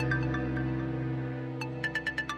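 A phone ringtone for a call from Baba's office sounds as a series of short repeated electronic pulses, near and moderately loud, over a sustained low musical drone.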